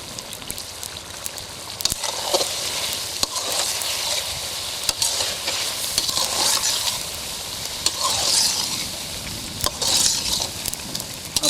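Cholistani street-style chicken karahi with coriander powder and garam masala sizzles in a pan, steady frying hiss broken by repeated scraping stirs, close and moderately loud.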